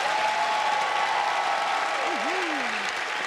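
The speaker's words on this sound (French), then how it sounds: "on va applaudir nos mamans" Comedy show audience applauding steadily for the whole stretch, a dense continuous clapping wash with a faint sustained tone above it, and a brief voice gliding in near the end.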